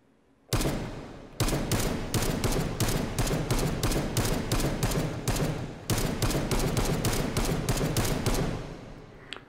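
SCAR 16 and 17 rifles fired in a VR shooting game, heard as long, loud bursts of rapid automatic gunfire with two short breaks between volleys, and the shooting stops abruptly near the end.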